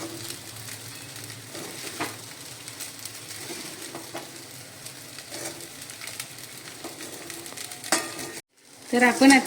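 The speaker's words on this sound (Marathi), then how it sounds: "तर मध्यम गॅसवरच मी खिचडी परतत आहे" Sabudana khichdi with crushed roasted peanuts being stir-fried in a pan over medium gas, steady close sizzling broken by rhythmic spatula stirs; a brief pause, then louder sizzle, with a few quiet spoken words near the end.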